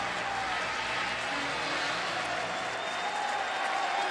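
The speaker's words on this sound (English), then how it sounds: "The Idaho crowd trying to get into it a little bit, help their team." Steady roar of a college football crowd cheering for Idaho, a broad sustained wash of noise with no distinct breaks, heard from a distance.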